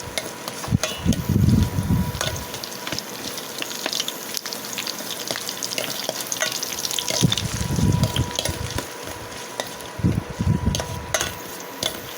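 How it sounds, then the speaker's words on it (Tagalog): String beans sizzle and crackle steadily in a hot pan as they are sautéed, with bursts of stirring and scraping, close and moderately loud throughout. "igisa na po natin ang mga sitado"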